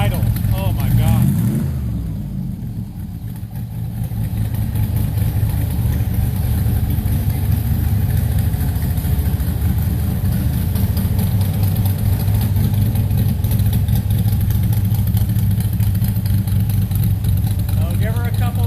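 A Ford Daytona Coupe engine idles with a steady, loud low rumble throughout, briefly swelling near the start as it is revved, with people talking over it.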